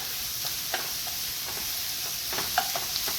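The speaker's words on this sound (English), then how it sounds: "So I'm heating up my onions. Sauteing my onion." Onions sauteing in olive oil in a pan, a steady soft sizzle with light stirring scrapes and a few small pops, close and continuous.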